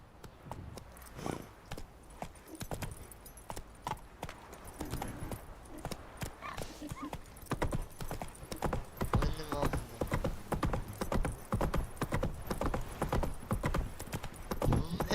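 Horse hooves in The Witcher 3 game, a rhythmic clip-clop that starts sparse and builds into a steady, louder trot, with tack jingling and faint speech underneath.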